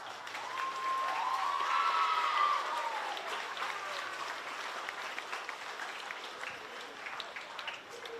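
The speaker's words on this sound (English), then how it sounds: "Let's give another round of applause for our new faculty and staff." Applause for new faculty and staff at a school welcome-back gathering, a steady dense wash of clapping that peaks early and slowly thins, with a brief voice tone heard near the start.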